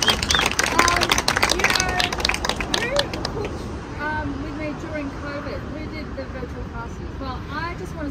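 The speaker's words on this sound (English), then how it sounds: "Another round of applause for Naomi." Audience at an office cooking event claps briefly, then the applause fades into crowd murmur and people talking over it.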